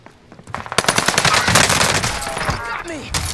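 Rapid automatic gunfire in a multiplayer shooter video game bursts loud and close in quick rattling volleys, with a few voices talking underneath.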